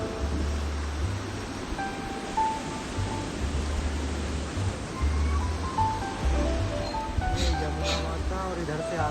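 The Yamuna river at Yamunotri rushes beneath a pedestrian bridge, a steady broadband roar of flowing water heard close, with low rumbling thumps underneath.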